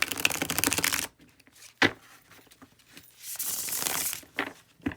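A thick deck of about 100 cards being shuffled by hand: a dense riffle burst at the start, then sharper separate snaps and a second longer riffle, close and crisp with no talking.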